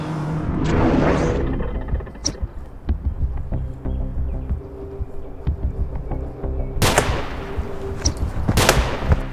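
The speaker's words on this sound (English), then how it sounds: "Hey, you can't use a gun." Gunfire in a fight scene from the 2021 film Mortal Kombat. Loud, sharp shots burst over rumbling film sound, with a dense cluster near the end.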